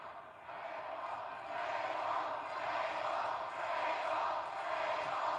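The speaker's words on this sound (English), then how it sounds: "Crowd enjoying every moment of this on Friday Night SmackDown from here in Greensboro, North Carolina." A large arena crowd at a Friday Night SmackDown wrestling event in Greensboro, North Carolina roars in a steady, dense wash of cheering that swells slightly partway through, with no commentary over it.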